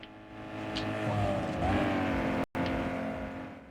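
A car engine in a driving video game, running on an emulator with manual transmission in fifth gear, drones steadily and rises slightly, with a brief dropout near the end.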